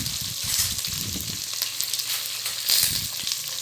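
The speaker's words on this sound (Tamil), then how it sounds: "அது நல்லா ஃப்ரை பண்ணணும் அது கோல்டன் ப்ரௌன் கலர் வர வரைக்கும் நல்லா அந்த ஆனியன் ஃப்ரை பண்ணுவோம்" Three large onions sizzle in hot oil while being fried golden brown for a home-cooked dum biryani. The hiss is steady and close, broken by soft stirring scrapes, with no voices.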